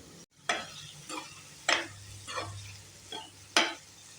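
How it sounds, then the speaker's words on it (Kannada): Spices and curd are stirred in a pan: coriander powder, garam masala and curd. Several separate scraping strokes come up close over a quiet, faint sizzle. "ಇವಾಗೆಲ್ಲ ಚೆನ್ನಾಗಿ ಮಿಕ್ಸ್ ಮಾಡ್ಕೊತಾ ಇದ್ದೀನಿ"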